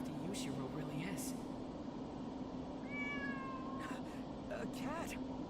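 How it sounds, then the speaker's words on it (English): A cat meows in a Demon Slayer video game, a couple of short, faint mews heard amid steady background hum and ambient game noise. "A cat!"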